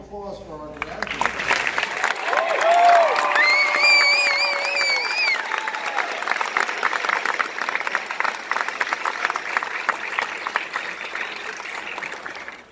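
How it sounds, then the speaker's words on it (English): A graduation ceremony crowd gives the graduates a round of applause, with steady clapping that swells early and holds for many seconds, plus a few whoops and whistles and voices mixed in. "let's have another round of applause for our graduates."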